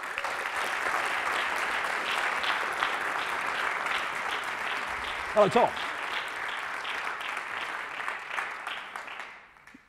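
An audience at a music masterclass applauds as a drummer takes the stage, a dense, steady round of clapping that fades away near the end, with a brief spoken greeting heard over it.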